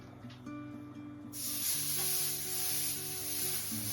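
Chili meatballs for smash burgers land on a hot pan, and a sudden loud, steady sizzle starts partway through and continues under a low background tone, without any speech.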